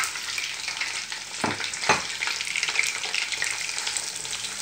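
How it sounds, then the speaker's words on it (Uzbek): Onions fry in a pot after chicken has been cooked and removed, giving a steady soft sizzle with a couple of sharper scraping stirs near the start, fairly quiet and without talk. "Piyozni ham do'stlar bir 5 minut qovuramiz."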